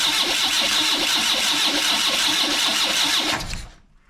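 A car engine undergoing head gasket work turns over steadily for about three and a half seconds with its starter terminals bridged by hand, a loud rhythmic cranking churn that then cuts off abruptly into quiet.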